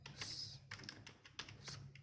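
Quick, quiet keystrokes on a computer keyboard tap out a short, irregular burst in a calm room.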